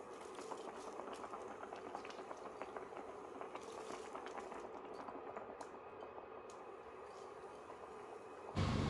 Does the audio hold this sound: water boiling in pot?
yes